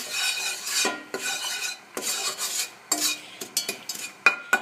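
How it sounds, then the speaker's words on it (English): Sugar is stirred with a utensil in a pot of oil, with repeated scraping and rasping strokes against the metal, close and moderately loud, ending in a few sharper clinks. "Now at this point, you just move your sugar around."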